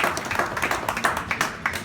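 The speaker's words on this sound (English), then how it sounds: "Let's give a round of applause for these athletes in the house." An audience at a 2016 Levrone Classic bodybuilding contest applauds athletes, a dense, steady patter of many hands clapping nearby, with faint voices mixed in.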